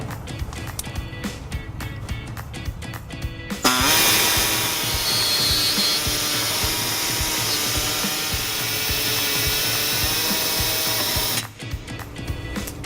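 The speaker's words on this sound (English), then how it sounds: "to make a small notch in our access hole, I'm going to be using an air saw" A pneumatic air saw cuts a small notch in the metal around an access hole on a 2015 Ford Escape, a loud, steady buzzing whine lasting several seconds between stretches of rattling, clattering workshop noise.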